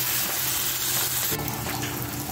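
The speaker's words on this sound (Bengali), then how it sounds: "এবার এঁচোরটা আমি এর মধ্যে ঢেলে দেব।" Boiled green jackfruit tipped into a pan of fried spice paste for Bengali echor chingri, with loud, continuous hot-oil sizzling that surges brighter partway through as the jackfruit lands, and no voices.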